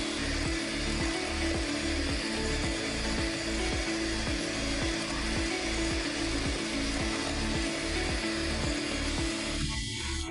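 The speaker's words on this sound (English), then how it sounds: "continue to whisk until the mixture becomes smooth" An electric mixer whisking egg whites with granulated sugar for a tall Margherita cake, a loud, close, steady motor drone with a regular rhythmic beating pulse running continuously without talk.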